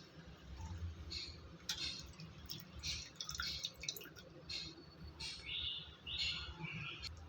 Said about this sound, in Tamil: நல்லா பிசைஞ்சிட்டு நம்ம அலசிக்கிறோம்